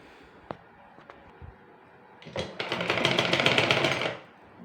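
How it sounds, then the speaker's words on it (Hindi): A sewing machine stitches along the edge of a kurti neckline, starting with a few faint clicks and then running in one steady whirring burst of about two seconds, close by. "फिर हम इन्हें पीछे की ओर करेंगे और किनारे किनारे सिलाई लगा देंगे"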